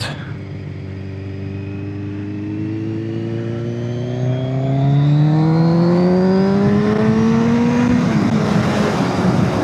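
A Kawasaki Z1000 motorcycle accelerates hard along a road, its loud engine note climbing steadily through the revs under wind rush, heard from the rider's helmet, with no speech.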